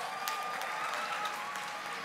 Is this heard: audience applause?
yes